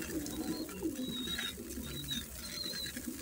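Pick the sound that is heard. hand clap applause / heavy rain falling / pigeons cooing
pigeons cooing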